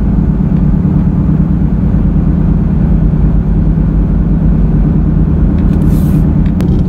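A car roars steadily at speed with a loud, droning, helicopter-like hum from a bad tire or worn wheel bearing, constant and close throughout with no talking.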